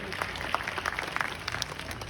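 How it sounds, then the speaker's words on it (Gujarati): An audience claps at a community prize and award ceremony in Patan, a dense crackle of many hands applauding steadily at moderate volume with no voices over it. "તાળીઓના ગડગડાટથી વધાવી લેજો."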